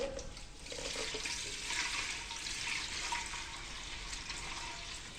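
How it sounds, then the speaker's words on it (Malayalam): About one and a half litres of water pours steadily into a pot for medicinal rice porridge, a continuous gushing splash at moderate level with no pauses. "വെള്ളം ഒഴിച്ചു."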